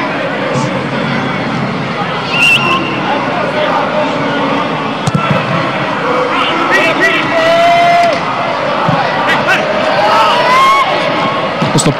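Football fans in a stadium crowd at a Gaz Metan Mediaș versus CFR Cluj match applaud and cheer in a steady, loud roar of broadband crowd noise, with whistles and shouts rising throughout.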